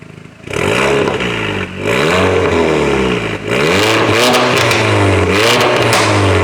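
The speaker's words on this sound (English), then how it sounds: "Let's start the car up. Let's see how it sounds." A Mercedes GT63s AMG engine fires up loudly and close by, then revs hard several times, the pitch climbing and dropping with each blip before settling into a strong, steady rumble.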